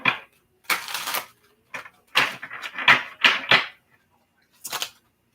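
A tarot card deck is shuffled by hand in several short riffling bursts separated by brief pauses, close and crisp, in a quiet room.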